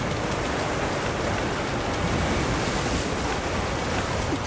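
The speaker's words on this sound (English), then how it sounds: "The rain's really coming down." Steady, dense roar of heavy rain in the video game Monster Hunter Wilds, pouring down without pause, loud and close, with a broad hiss and a low rumble underneath.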